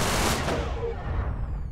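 Weapon fire at containers in the space-combat game Everspace: a dense, loud, booming blast that fills the whole clip, with a long rumbling decay and no talking.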